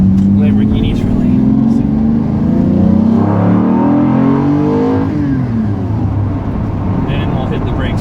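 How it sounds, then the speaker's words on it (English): The V12 engine of a 1999 Lamborghini Diablo pulls hard from inside the car, a loud, rising roar through the gears with a brief drop between shifts before climbing again. "you can't beat the sound of the V12"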